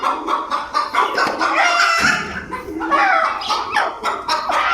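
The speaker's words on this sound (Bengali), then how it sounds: "এই যে এখানে একটা মুরগি কুচে" Chickens on a rooftop, including farm hens, cluck and squawk continuously at close range, with overlapping calls filling the whole stretch and no clear talk.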